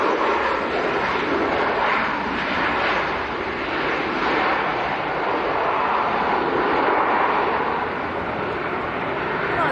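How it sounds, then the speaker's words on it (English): A Ryanair Boeing 737-800 arriving from Malaga lands at Leeds Bradford Airport in the evening, its jet engines producing a steady, loud broadband roar that holds throughout with no one speaking. "Ryanair from Malaga, an 800 series 737."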